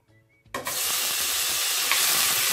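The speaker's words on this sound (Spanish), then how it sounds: "vamos a empezar haciendo el sofrito, ¿verdad? De cebollita" Onion sofrito for a green banana picadillo hits a hot pan with a sudden loud sizzle that starts about half a second in, then holds a steady, dense frying hiss to the end.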